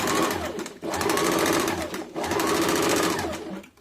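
Sewing machine running rapid stitches on tucks of a simple blouse, a close, busy mechanical chatter in three short runs with brief pauses between them.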